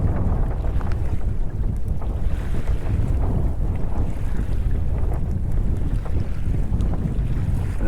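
Strong wind roars across the microphone over choppy water while a Hobie Outback kayak sails at a close reach, a loud, steady rumbling wash of gusts and slapping waves with no talk.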